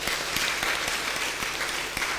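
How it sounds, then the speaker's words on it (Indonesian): A church congregation at a Sunday service applauds for a man, a steady, even patter of many hands clapping with a few sharper claps standing out, continuous and fairly close. "mari kita boleh memberikan tepuk tangan bagi Bapak"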